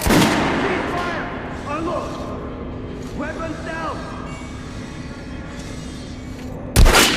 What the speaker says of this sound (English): Try shooting for the center in the dummy's chest.